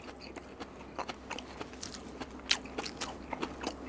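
Someone bites and chews raw deodeok root, a crisp, juicy root vegetable, producing a quiet series of close, irregular crunches and wet chewing snaps with no talk.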